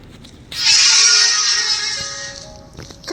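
A long, creaking door in the video game Slendrina: The Cellar groans open for a couple of seconds, a harsh, loud squeal that fades out at the end.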